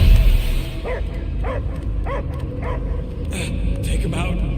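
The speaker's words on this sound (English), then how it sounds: "I hear only barking." Dog barking in Marvel's Guardians of the Galaxy video game, a series of short regular yips and barks repeated about every half second over a constant low rumbling game soundtrack.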